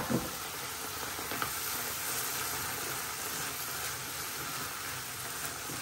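Kidney beans frying with spiced masala in a pan give a steady, close sizzle throughout, with a faint scrape of stirring now and then and no voices.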